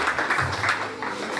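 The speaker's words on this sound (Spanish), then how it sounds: "Fuertes aplausos a nuestro señor alcalde" Modest applause from a small outdoor gathering for a street paving inauguration, fairly faint and uneven, with a low murmur underneath.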